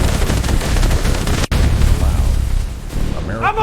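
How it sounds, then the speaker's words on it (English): Battle reenactment gunfire: dense, continuous rattling bursts and booms fill the whole stretch, loud and close, with a brief break partway through and faint voices shouting near the end. "the battle continued in bursts of gunfire"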